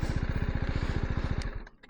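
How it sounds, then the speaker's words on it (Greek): A 2021 BMW G310GS motorcycle engine runs with a steady, rapid, close-up idle thrum that cuts out and fades near the end. "Αυτή είναι η μηχανή μου."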